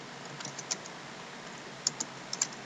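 Typing on a computer keyboard, a few soft key clicks in short bursts over faint steady background hiss, with no talk.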